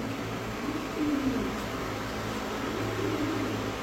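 Pigeons held in hand at a bird market give a few soft, low coos over a steady background hum, faint and fairly close.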